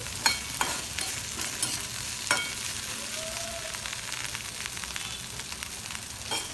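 Okra (ladyfinger) frying in oil with mustard seeds and cumin, a steady broadband sizzle with a few sharp pops and stirring clicks, moderately loud and close, no talking.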